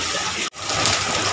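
Heavy rain in Delhi pours as a loud, steady hiss, broken by a brief dropout just before the downpour resumes.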